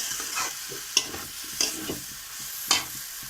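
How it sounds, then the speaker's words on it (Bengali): Young jackfruit cooks in a pan with spices, a soft sizzle running underneath as a spatula stirs and scrapes, giving several sharp metallic clinks and shuffling sounds, close and without talk. "ভালো করে কষিয়ে নিতে হবে।"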